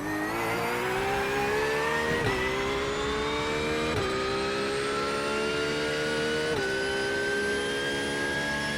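A race car engine in the iRacing sim holds a steady high-revving drone with rising harmonic pitch, dipping briefly at three gear shifts before climbing again, loud and continuous with no talking.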